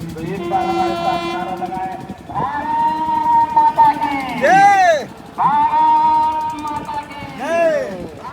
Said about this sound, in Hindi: डेहरी ऑन सोन से ट्रेन खुल चुकी है